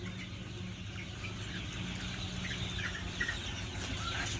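Thirty-four-day-old chicks on a poultry farm in Hubli cluck and cheep in a busy, continuous chorus at moderate distance, with no talking.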